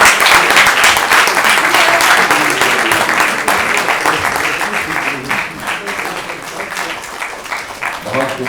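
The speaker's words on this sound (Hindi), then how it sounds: "इनके लिए शानदार तालियां।" A theatre audience claps at the close of a play, the dense applause loud and sustained and slowly fading, with someone speaking over it.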